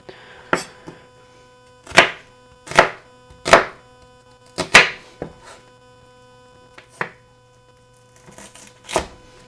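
A knife chops through a sweet onion on a cutting board before fajitas on a Blackstone griddle, giving about a dozen crisp, irregular thunks with short pauses between them against a low steady hum.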